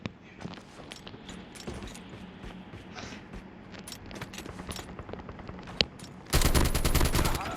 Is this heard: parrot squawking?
no